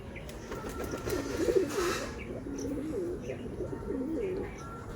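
Pigeons coo softly in a steady, low rolling murmur, fairly faint and distant, with a few light chirps above the constant background hum.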